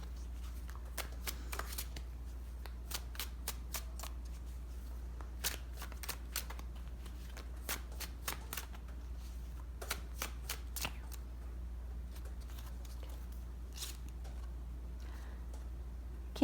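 Tarot cards being shuffled, a series of crisp riffling bursts in irregular clusters over a low steady hum, close and fairly quiet with no talking.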